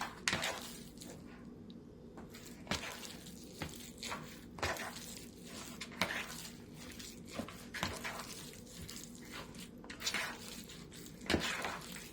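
A utensil stirs healthy cookie mixture around a pan, with repeated scraping and clinking strokes in an uneven rhythm over a soft continuous sizzle, close and moderately loud.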